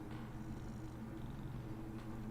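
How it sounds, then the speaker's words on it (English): A cat named Mr. Squish purrs softly and close, a low continuous rumble running steadily throughout, faint against a background hum, with no voices. "Here's the cat."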